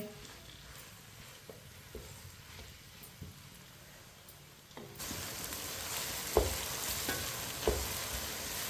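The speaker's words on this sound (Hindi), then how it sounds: "प्याज को हल्का सा ब्राउन कर लेंगे इसी तरह चम्मच चलाते हुए" Onions frying over medium heat for Hyderabadi biryani, stirred with a spoon until lightly browned: a faint sizzle with occasional spoon scrapes, swelling louder halfway as the frying intensifies.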